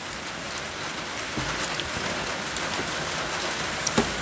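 Heavy rain pours down steadily during a storm in rural Thailand, a dense continuous hiss with a few louder drops and faint knocks near the end, and no voices.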